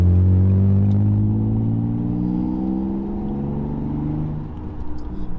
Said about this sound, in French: comme vous l'entendez, hein, le magnifique V6 3 litres 5